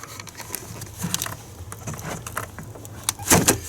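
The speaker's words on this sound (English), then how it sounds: "We're going to pop this whole air cleaner cover assembly off." Plastic air cleaner cover assembly being popped off a GMC Sierra Silverado, a series of close creaks, clicks and rattling snaps building to a louder crackle near the end.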